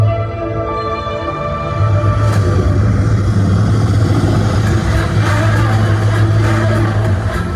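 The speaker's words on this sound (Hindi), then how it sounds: "ये हेलीकॉप्टर कहाँ से आ गया?" Helicopter passing overhead in a Hindi-dubbed South Indian film scene, a loud sustained engine and rotor drone that swells and holds steady for several seconds.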